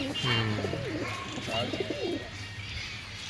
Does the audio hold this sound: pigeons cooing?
yes